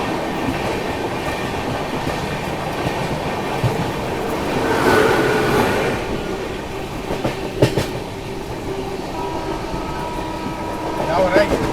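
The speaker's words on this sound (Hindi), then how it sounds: "साथ किसी ट्रेन को ओवरटेक भी मार रही है अपनी ट्रेन" Rumble and clickety-clack of the Marathwada Sampark Kranti Express running past another train on an adjacent track, heard from inside a second AC coach, with a steady rolling roar and occasional sharp rail clicks, under a person talking.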